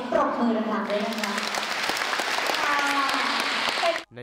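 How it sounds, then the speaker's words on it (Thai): A crowd of audience members claps loudly and continuously, a dense wash of applause with excited voices mixed in, ending abruptly. "ขอพลังเสียงปรบมือดังๆด้วยนะคะ"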